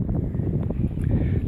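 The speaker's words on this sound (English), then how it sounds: "Oh, it's a bit windy." Wind in a park blowing steadily, with low rumbling gusts buffeting the microphone throughout.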